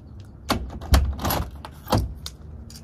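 Keys jingle in a few short metallic bursts as they are picked up near a door, with light handling noise in between and no talking.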